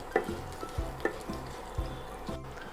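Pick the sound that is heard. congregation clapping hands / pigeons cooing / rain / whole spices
whole spices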